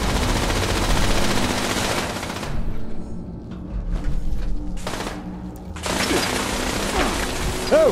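Gunfire in Fallout 76 rattles in dense automatic bursts. A loud stretch of firing drops into short pauses and scattered shots, then heavy firing starts again.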